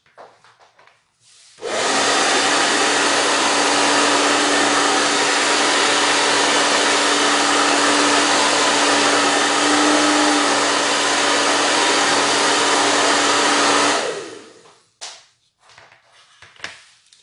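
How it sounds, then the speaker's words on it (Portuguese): A hair dryer switches on to dry paint on an MDF piece, blowing with a loud, steady whoosh for about twelve seconds, then cuts off, leaving quiet handling noises. "De novo eu vou pro secador."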